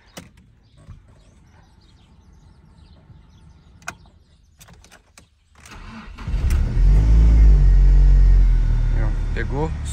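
A cold Ford Focus 2.0 Duratec 16v four-cylinder starts up and settles into a loud, steady fast idle after some quiet handling noises, with a person talking briefly.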